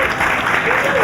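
A short burst of audience applause at a 2011 user conference in New York, a steady, full wash of clapping from a crowd with no break.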